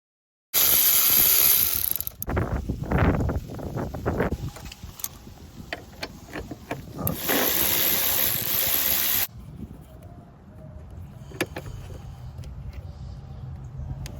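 Ratchet wrench clicking as 13 millimeter bolts come out of a Jetta GLI MK6, close and loud at first with bursts of rapid clicks and some rustling, then quieter handling noises.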